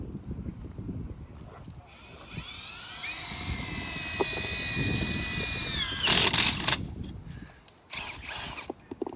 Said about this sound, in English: Now you got to drill it and tap it.